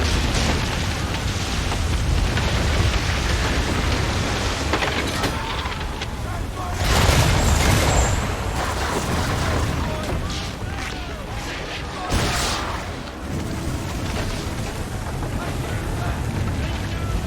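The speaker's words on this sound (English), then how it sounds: "this storm concerns me a great deal more" A stormy sea in Assassin's Creed III, with steady rushing wind and rain and occasional heavy surges of waves, under people talking.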